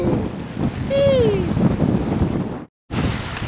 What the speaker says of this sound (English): So guys, it's getting really windy out here.